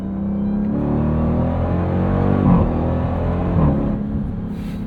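A 2023 Dodge Durango SRT Hellcat SUV in full track mode with manual shifting, its engine rumbling and revving steadily as it accelerates hard, loud and close throughout with no talking.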